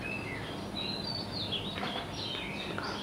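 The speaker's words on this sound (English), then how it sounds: "birds chirping melodiously" Birds chirp in a forest at sunrise, high thin calls scattered and overlapping at a moderate distance over a steady soft ambient hiss.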